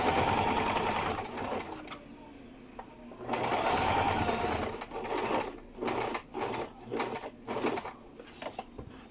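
A sewing machine stitches a yoke-cut skirt mock-up in bursts, first a long continuous run, then several short stop-start runs, close and clear with no talking.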